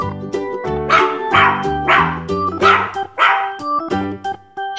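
A dog barks in a farm-animal nursery rhyme, a run of about five quick, bright yips and woofs in a steady rhythm, mixed over a plodding children's music backing.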